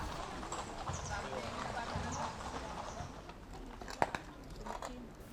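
Horses ridden in a religious procession, their hooves clopping steadily at a moderate distance within a noisy outdoor crowd ambience, with one sharper knock standing out near the end.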